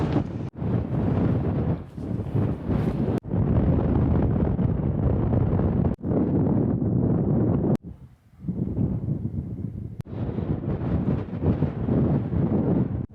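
Strong wind on an open hilltop, roaring and buffeting the microphone in loud continuous gusts with a few brief lulls, no voices.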